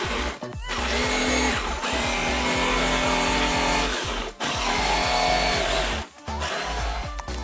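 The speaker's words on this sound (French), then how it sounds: "je vais essayer de poncer le bord du bois pour faire un joli arrondi et lui donner un aspect" A power sander rounds the edge of a wooden sculpture with a loud, continuous grinding whine. It cuts out briefly twice, near the middle and near the end.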